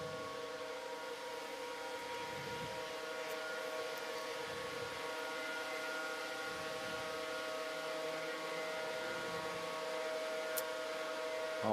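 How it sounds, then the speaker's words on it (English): At the SAQ longwave transmitter, an alarm sounds before the main drive motor starts. It is a continuous, steady siren-like tone that holds unbroken for the whole stretch with no speech. "And the alarm goes out."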